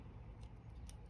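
A single quick snip of scissors cutting a length of yarn for a crocheted bag, soft and close in a quiet room.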